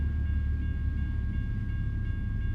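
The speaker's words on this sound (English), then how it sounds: "is a train. I don't want to go inside the train." A passing train in the trucking game American Truck Simulator makes a steady low rumble with a faint high tone above it, moderately loud and continuous, with no voices.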